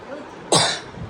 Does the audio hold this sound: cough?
yes